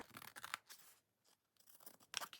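Scissors snip through a folded page flap in a handmade art journal, a few quiet, close crisp cuts with short pauses between them.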